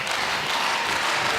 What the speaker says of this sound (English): And the crowd here clapping, stamping their feet in support of Nicolas Dalby.